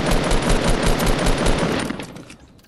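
Gunfire in Fortnite: rapid, loud automatic shots hammer away continuously, close and dense, before tapering off near the end.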